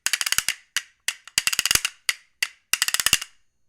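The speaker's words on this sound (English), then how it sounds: "So a castanet paddle as an instrument can play a beat" Bright wooden clicks from a castanet paddle played in short rhythmic bursts and single snaps, forming a lively beat, up close with no voices.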